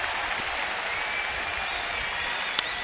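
Big baseball stadium crowd cheering for the Nats during a Dodgers at Nationals game, a steady loud roar of applause and voices filling the whole stretch with one sharp clap near the end.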